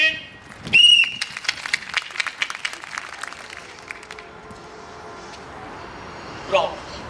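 A sharp referee-style whistle blast sounds once to start a game at a live stage show, followed by clapping and crowd noise, with a brief fainter whistle later.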